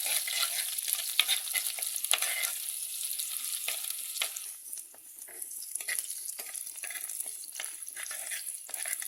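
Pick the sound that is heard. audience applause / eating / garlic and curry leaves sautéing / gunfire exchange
garlic and curry leaves sautéing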